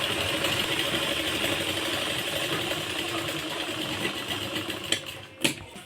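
A sewing machine stitching the folded hem of palazzo pants, a steady fast mechanical whir for about five seconds, then stopping with a couple of clicks.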